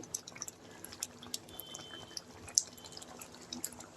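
A pot of cucumber kootu simmers at a full boil on the stove, giving faint, irregular bubbling pops and soft liquid plops over a low steady background.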